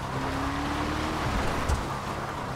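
Declasse Walton L35 off-road car in GTA Online, its engine giving a steady low rumble with gravelly terrain noise throughout, one brief bump near the end.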